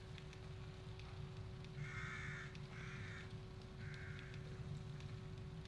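Three harsh crow caws in The Evil Within, evenly spaced and moderately loud over a steady droning game ambience with a constant hum, no talk.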